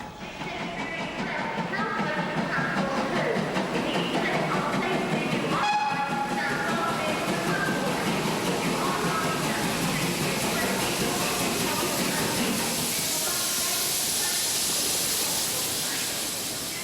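A steam train runs on a British railway line with a loud, continuous rolling rumble, rhythmic wheel clatter and a brief whistle, while a narrator talks over it.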